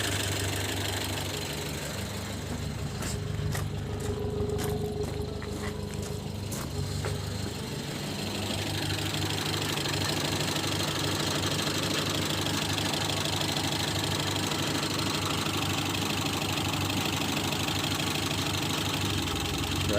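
A rebuilt Mazda 323 engine idles steadily just after its first start, a continuous close rumble with a knocking, uneven edge, preceded by a few sharp clicks in the opening seconds.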